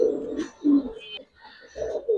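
Giribaz pigeons of the Palla line coo in low, throaty bursts, three clear rounds close by with brief pauses between them and no talk over them.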